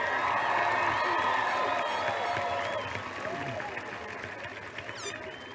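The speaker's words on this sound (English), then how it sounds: "Can you guys give them a round of applause" Graduation ceremony crowd applauding the spirit teachers at a high school, sustained clapping and cheering from a large audience in an open venue, strongest at first and gradually fading.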